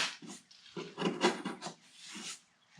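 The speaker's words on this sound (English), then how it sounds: "just taking off the weather stripping" Rubber weather stripping is tugged and peeled off a 1988 Ford F700 dump truck, giving a few close rubbing, rasping pulls in irregular bursts that swell in the middle and fade toward the end.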